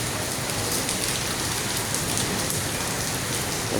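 Hailstorm rain pours down steadily, a dense, even hiss of drops striking surfaces that continues unbroken throughout, fairly close and heard alone with no voices.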